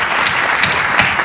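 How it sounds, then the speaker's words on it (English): A keynote audience breaks into loud, dense applause for Carl Bruin, a brief continuous roar of clapping with no voices over it. "We hear one round of applause for our dear friend Carl."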